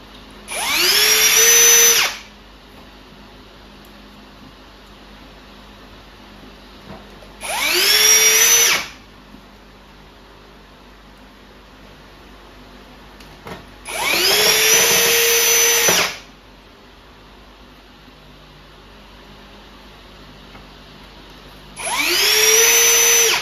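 Power drill driving screws into an Australian-designed Hive IQ poly bee hive, four loud whirring bursts of about two seconds each, spaced several seconds apart with quiet in between.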